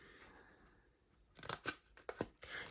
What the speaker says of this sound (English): now grab your scissors